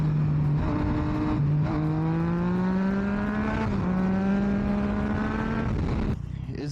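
A Yamaha MT-09 motorcycle engine revs hard while riding, a loud, continuous note that climbs steadily in pitch through several gear pulls with brief dips at shifts, close and dominant throughout.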